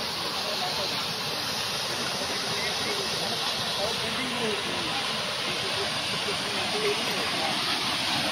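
A waterfall in Ganjam, Odisha roars as a constant, loud, broadband rush of falling water, steady and close throughout.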